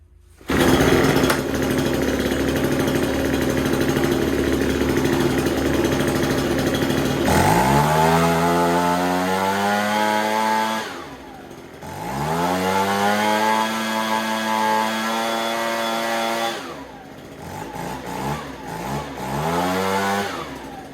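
Ryobi BP42 backpack leaf blower's small two-stroke engine running after repair, still cold: a loud, close, steady buzz that drops and rises as the throttle is let off and opened again twice.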